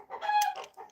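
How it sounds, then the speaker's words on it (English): Backyard chickens clucking and squawking in an agitated burst, a rapid run of overlapping calls lasting about a second, moderately close with no talk over them. "my chickens are having a conniption all of a sudden"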